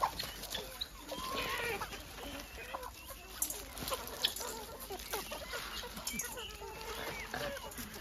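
Chickens cluck steadily on a farm while being fed corn, a busy mix of short calls near and farther off, with a person talking over them.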